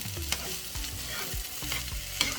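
Fried rice is stirred in a hot pan, making repeated scraping strokes of a spatula over a constant close sizzle, with no voices.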